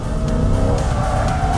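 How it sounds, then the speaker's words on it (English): A 2020 Chevrolet C8 Corvette, a mid-engine car, drifts with a loud, steady engine roar, its rear tires scrubbing throughout a short, continuous burst. "We'll try to drift it right here."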